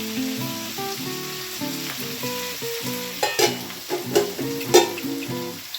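Vegetables for fried rice sizzle steadily in a pan and are stirred with sharp scraping clinks toward the end, while soft tonal background music plays underneath.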